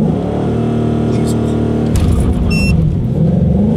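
Ford Mustang 5.0 V8 engine held at high revs with a loud, harmonic roar, then the note drops and shifts midway as throttle changes, heard up close with people talking over it.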